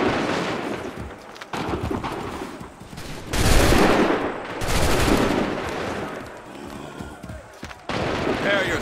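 Musket volleys in Assassin's Creed 3 go off in loud, crackling bursts, with the biggest blast after a short wait and a second rolling volley soon after, while voices shout orders in between.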